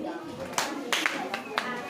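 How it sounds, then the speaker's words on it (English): A few scattered claps from girls in a classroom, short bursts of hand claps separated by pauses, heard alongside faint background voices. "Clap for them."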